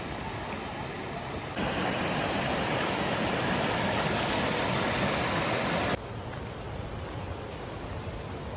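Constant broadband rush of falling water, loud and steady, from the 30-metre Cachoeira do Fraga waterfall on the Rio Brumado near Rio de Contas, Brazil; the level shifts abruptly twice but never stops.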